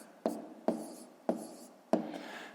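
Numbers being written by hand for a fifth-grade maths exercise, four distinct scratchy pen strokes close to the microphone in a quiet room.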